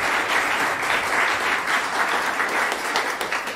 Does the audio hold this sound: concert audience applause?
yes